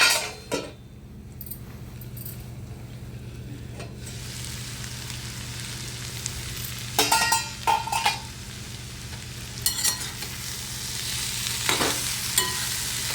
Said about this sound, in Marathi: पूर्ण वरखाली करून घेते मी भाजी